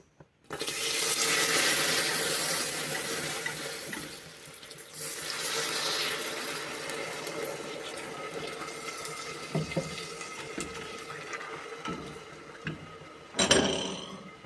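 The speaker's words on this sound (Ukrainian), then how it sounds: "І зараз ми будемо додавати цукор і молоко. Спочатку трошки молочка." Milk is poured into a pan for homemade sugar candies, a continuous close splashing rush that is loudest at first, then settles into a softer trickle with a few clinks near the end.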